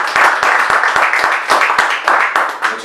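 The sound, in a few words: audience applause for the speaker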